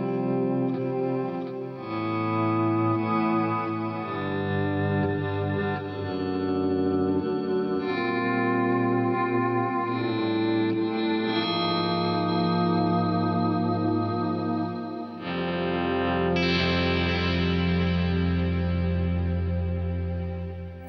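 An electric guitar with delay effects plays through 1970s Marshall amps. Sustained, echoing chords wash into one another and ring out loudly and continuously, with a deeper shift near the end.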